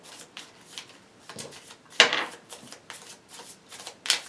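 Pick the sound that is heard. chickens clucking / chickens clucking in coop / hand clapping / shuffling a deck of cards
shuffling a deck of cards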